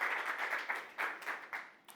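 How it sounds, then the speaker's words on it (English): Faint, scattered clapping from a conference audience, uneven and fairly distant, fading over two seconds. "Round of applause."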